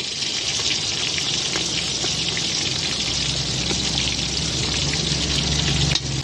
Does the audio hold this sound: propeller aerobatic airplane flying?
no